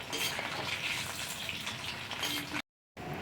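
Chicken pakora frying until red and crispy gives off a continuous, close hiss of bubbling oil with faint stirring, which cuts to a brief silence near the end before the sizzle returns.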